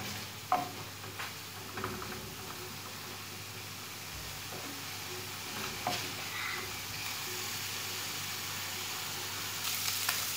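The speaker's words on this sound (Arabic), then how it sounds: "إذا هنا بعد أن قمنا بتحمير الدجاج قليلا هكذا" Chicken browning in a hot pan, a steady soft sizzle with occasional stirring scrapes and clinks, moderately close, no talking.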